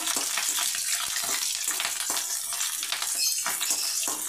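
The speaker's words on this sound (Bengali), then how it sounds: "তেলটা আমার গরম হয়ে গিয়েছে, এর মধ্যে আমি পেঁয়াজটা" Chopped onion hitting hot oil in a kadai produces a loud, dense, continuous hissing sizzle with crackling bursts throughout.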